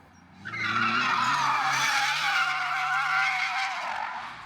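Hyundai Ioniq 5 N electric car drifting with its drift mode engaged, tires screeching in one loud, sustained skid lasting several seconds, with no talk over it.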